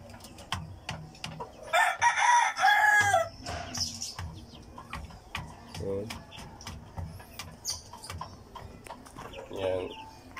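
A rooster crows loudly and close by among Brahma and native chickens in a farmyard. One long crow comes early, followed by clucking, scattered knocks and someone talking.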